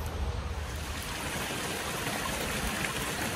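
Stream water flowing steadily over a trail crossing on the Appalachian Trail on a chilly autumn day, a continuous close rushing and trickling wash with no voices.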